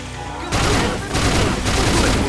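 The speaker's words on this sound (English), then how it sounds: "Explosions." Dense, loud gunfire and explosions rumble from a Let It Die team deathmatch, a sustained barrage of booms and rapid shots with no pauses.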